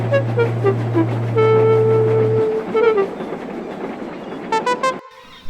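Passenger train pulling out of a rail yard, a low steady engine drone with a sustained horn tone, then rhythmic wheel clatter and a series of short high whistle toots near the end, loud and close.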